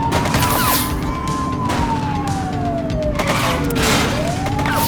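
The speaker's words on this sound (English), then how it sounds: "Shots fired!" Gunshots in the police video game The Precinct, dull repeated bangs scattered through the clip under a loud wailing police siren that sweeps up and down.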